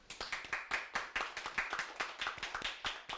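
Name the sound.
audience clapping hands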